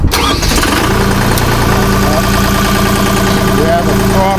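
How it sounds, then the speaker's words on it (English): The engine of a Fluid Pro doughnut puller, a sling puller machine, cranks and catches right away, then settles into a loud, steady idle with a buzzing vibration close by. "Just to start it up, Very simple operation. Turn the key on, wait a second or two."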